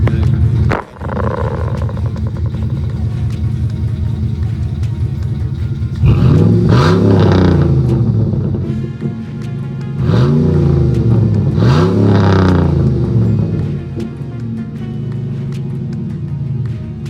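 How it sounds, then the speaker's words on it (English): A Ram pickup with a 4.7 V8 and a Flowmaster 40 exhaust with turn-downs idles with a deep burble, then revs hard twice. Each rev rises to a loud roar and falls back to idle, recorded close to the pipes. "We'll do some revs real quick."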